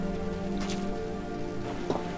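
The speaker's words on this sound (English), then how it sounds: "Let's wait out the rain" Steady rain falling in the video game Road 96, a constant wash of patter running throughout at moderate level, with a low droning tone and music-like hum underneath and no speech.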